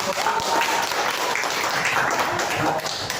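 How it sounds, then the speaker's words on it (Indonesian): A room full of teachers at a coaching workshop clapping, steady applause throughout with a few voices mixed in. "tepuk tangan dulu dong"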